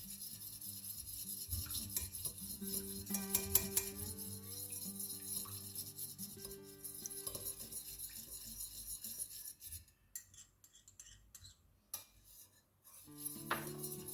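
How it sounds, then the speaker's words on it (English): A spoon stirs scent into whipped vanilla candle wax in a container, giving soft, faint scraping and clinking under background music, with a short lull partway through before the stirring resumes. "You want to keep stirring just a little bit."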